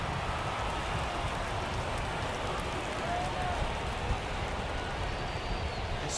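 Steady rain hisses across a ballpark in MLB The Show 23, a dense, even wash of rainfall that runs unbroken from start to finish.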